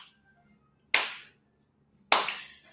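Two sharp, isolated hand claps about a second apart in a quiet room, each crisp and close with a short ringing decay.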